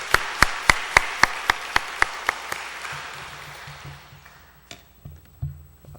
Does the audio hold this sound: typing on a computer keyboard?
no